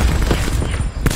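Rapid gunfire in a Call of Duty Blackout match, loud, dense and close, with a sharp louder shot near the end.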